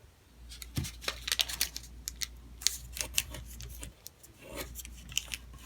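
A sheet of origami paper is creased and folded by hand for a Venus flytrap model, giving a run of sharp, close crinkles and taps, quiet and uneven, with no voice present.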